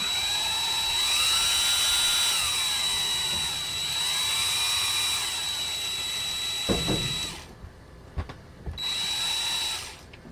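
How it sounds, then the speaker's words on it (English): A power drill whines steadily at high speed, briefly slowing, then stops with a few clicks before spinning up again for a short burst. "I'm going to stick it in my drill"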